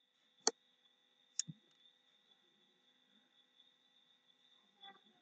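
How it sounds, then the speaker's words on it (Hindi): A single F9 key pressed on a computer keyboard while entering a purchase bill in accounting software, giving two sharp, quiet clicks about a second apart over a faint steady hum, with a soft rustle near the end. "अब यहां से F9 प्रेस करोगे अपने कीबोर्ड से"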